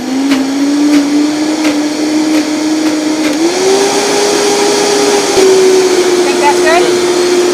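Blender running on tofu and lemon in a home kitchen, a steady loud motor whine that rises in pitch as the speed is increased, with soft voices now and then underneath.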